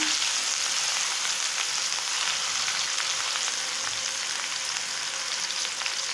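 Curry leaves and crushed garlic sauté in a pan for a moong curry, giving a dense, even, loud sizzle that holds steady from start to finish with faint stirring.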